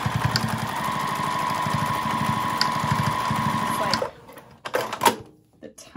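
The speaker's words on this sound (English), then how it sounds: "I'm gonna create another line of stitching." A sewing machine stitches a line through fabric for a coffee cozy, its rapid needle thumps running in a steady rhythm close by for several seconds before stopping, followed by a few handling clicks and a brief spoken word.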